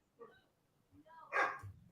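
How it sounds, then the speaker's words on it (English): A dog barks a few times in the background indoors, brief faint yips followed by one louder bark, with nothing else sounding in between. "Oh, freaking dogs barking in the background."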